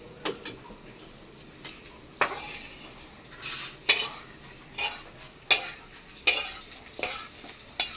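Dry red chillies are fried in a pan while a spatula stirs, giving repeated sharp scrapes and clinks over a faint background sizzle, close and intermittent, with no talking.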